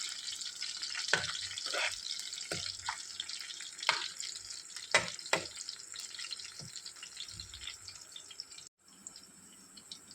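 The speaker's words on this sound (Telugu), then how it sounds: "దాంట్లో మనం ఫస్ట్ పచ్చిమిరపకాయలు వేసుకోవాలి" Green chillies sizzle in hot oil in a home kitchen pan, a steady close hiss with sharp spits and crackles scattered throughout, easing off briefly near the end.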